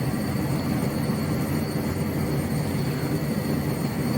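Erickson SkyCrane helicopter taxiing in the Microsoft Flight Simulator 2024 game, a steady, even engine and rotor drone with a constant whine on top, loud and unbroken throughout.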